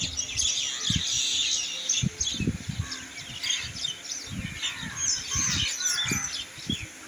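Birds, crows among them, gathering in the morning to eat chanachur: busy overlapping chirps and calls at moderate distance, with soft scattered thumps and rustles below them.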